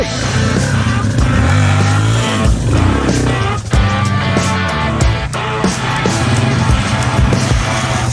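A Yamaha TTR dirt bike engine runs loud and close throughout, a rough, continuous motor rumble with shifting revs as it moves through the woods.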